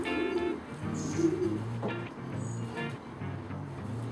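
Soft, repeated cooing from a young, well-bred racing pigeon, the low throaty calls rolling on steadily and close by, with no talk over them.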